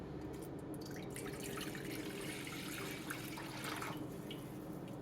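Three cups of water poured into a cooking pot with a little oil while preparing white rice, a steady continuous splashing and gurgling stream at close range with no talking.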